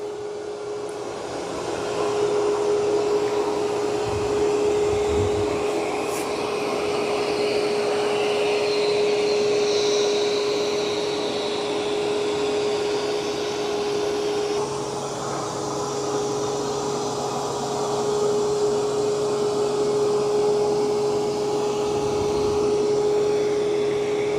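An Ecovacs Deebot N20 Plus robot vacuum running over carpet strewn with long hair, with a constant close-up whooshing drone and a steady high tone that persist with little change.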